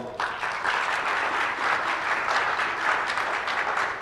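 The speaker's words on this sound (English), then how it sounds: "Please give them a round of applause." An audience at a school Jeopardy-style trivia quiz applauds the teacher contestants, a full, sustained burst of clapping from many hands that stays steady throughout.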